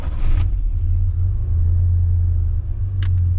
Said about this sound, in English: I'll get the truck fired up